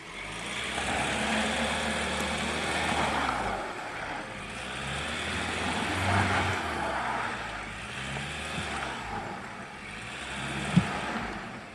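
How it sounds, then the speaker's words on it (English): A 2019 Ford Ranger Wildtrak spins its rear wheels without the diff lock engaged: a rough, rushing engine drone with grinding noise that swells and eases over several seconds, with a sharp knock near the end. "So if I try to push it without the diff lock, this is what happens. You get a lot of rear wheel spin."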